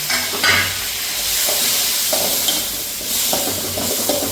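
Tomatoes sautéing for mutton gravy, a loud close sizzle with hissing steam and recurring scrapes of a spoon stirring the pan, steady and uninterrupted with no voices.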